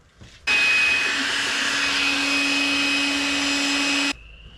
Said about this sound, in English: make sure that you get the vacuum. Clean off all your shavings.